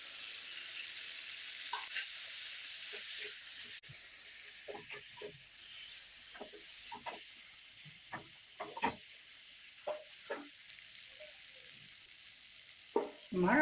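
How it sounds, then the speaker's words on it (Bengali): Potato and pumpkin pieces frying in a pan, a faint soft sizzle broken by scattered crackles and light stirring scrapes, quiet and close, with no talking. "আমার আলু ও কুমড়োগুলো ভাজা ভাজা হয়ে গেছে"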